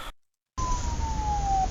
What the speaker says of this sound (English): Add a police siren.